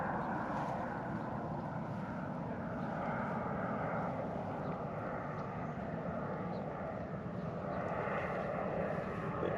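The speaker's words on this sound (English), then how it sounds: "let this airplane fly by." A low, steady airplane engine roar fills the air, distant and continuous, with a faint rushing quality as the aircraft passes overhead.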